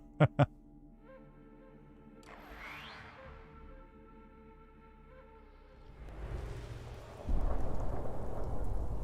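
Quantum rain thunderstorm weather in the video game Fallout 76: two sharp clicks and faint steady tones open, then a rushing downpour with low rumbling swells in over the final third and grows louder near the end.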